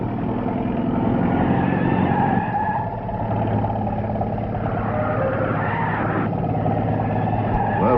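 A truck driving and skidding, heard as a steady loud engine roar with rumbling and tire noise throughout, a shift in pitch midway, close and continuous.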